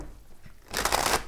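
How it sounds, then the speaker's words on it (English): A deck of cards being shuffled in a tarot reading, a brief soft riffle building into a louder, dense flutter of cards in the second half, close and alone without talk. "I want to do a very good shuffle for you."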